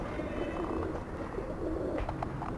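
A stray pigeon coos with low, soft, repeated throaty calls close by, set against a muffled background hum with a few faint chirps near the end.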